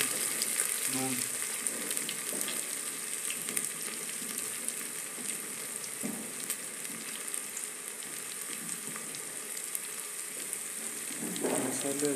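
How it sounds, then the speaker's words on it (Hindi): Spices for a Himachali mutton dish fry steadily in a pan, a continuous close sizzle with occasional soft scrapes of stirring and faint background voices. "मसाले हल्के हल्के फ्राई होने लगी"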